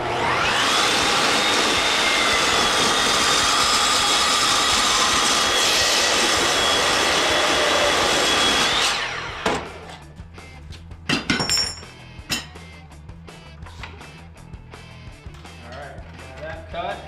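A cold saw cuts steel tubing for a camper bike rack, a loud steady whine for about nine seconds that winds down, followed by metallic clinks and handling noises.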